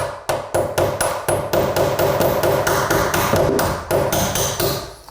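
A hammer strikes metal in a rapid, steady series of sharp taps, driving a door hinge pin out with a drill bit, close and loud, with a few brief pauses.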